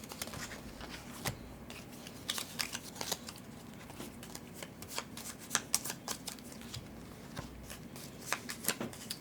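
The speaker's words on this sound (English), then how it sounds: "we're going to shuffle each of those" Board game cards for Scholars of the South Tigris are shuffled by hand on a table, giving repeated crisp riffling bursts and soft taps at close range, with no talking.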